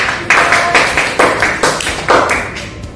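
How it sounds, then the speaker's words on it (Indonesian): Clapping in a classroom, a group of students striking hands in loud, distinct bursts with a steady, near rhythm, each burst fading quickly. "Ada tepuk tangan untuk"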